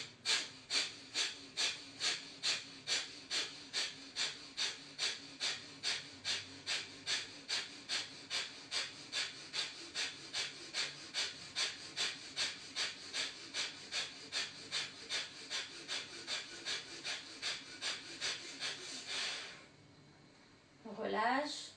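Rapid forceful nasal exhalations repeated in a steady, quick rhythm during a breathing exercise, about forty close breaths in a row, then a pause and one long deep inhale at the end.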